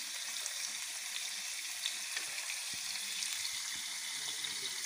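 Fish fries in hot oil for an Assamese fish curry, giving a soft continuous sizzle with scattered crackles and pops, fairly quiet and steady, with no talking.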